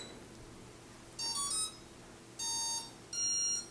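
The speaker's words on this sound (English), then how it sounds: "So we're hearing camera beep." Three short bursts of high electronic beeping from a Simtoo Dragonfly Pro drone camera powering up ring out in quick tones over a faint background hum, with pauses between them.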